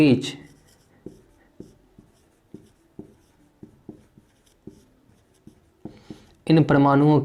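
A pen scratches out handwritten notes in short, regular strokes, a series of soft, close taps and scrapes, followed by someone speaking at the end.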